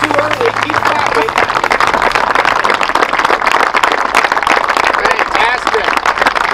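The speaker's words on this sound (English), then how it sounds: "Keep clapping." A crowd gathered for a golf clinic with Brooke and Brittany Henderson at Eagle Creek claps steadily and fairly loudly, a dense continuous patter running the whole time, with voices mixed in underneath.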